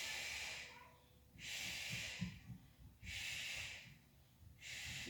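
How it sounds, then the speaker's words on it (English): Heavy breathing during a yoga workout, slow alternating breaths in long hissing waves roughly every second and a half, close to the microphone with no talk. "Make sure you're breathing."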